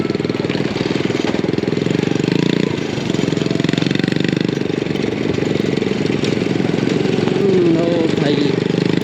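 A motorcycle engine runs in a steady, loud drone while riding with four people aboard, with talk heard over it.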